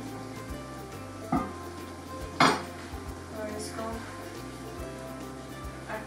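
A spoon stirs chana dal with browned onions and ginger in a pot, with soft scraping and a couple of sharp metallic clinks against the pan, moderately quiet.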